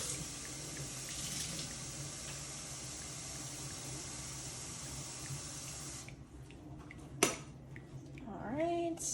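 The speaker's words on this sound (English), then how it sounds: "I'm gonna actually refill the reservoir, but just with normal water" Tap water runs steadily as an espresso machine's water reservoir is refilled with plain water during a descaling clean, a constant faint stream that stops partway, followed by a sharp click and handling sounds.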